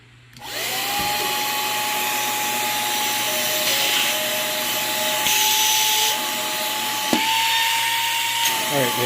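A small electric exhaust fan on a Limitless Max 4 Combo model build runs continuously with a steady whirring hum and airy rush, close and fairly loud, pitch shifting slightly as it runs.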